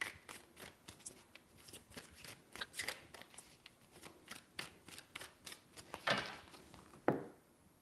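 Tarot cards are shuffled close by in a series of soft riffling and slapping bursts, repeated irregularly, ending with a sharper snap; no talking.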